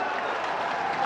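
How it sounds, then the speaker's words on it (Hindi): Dense, steady applause from a large audience fills the hall at a government ceremony honoring women farmers, sustained and even throughout with no pauses. "जोरदार ताली, टिके जोरदार ताली"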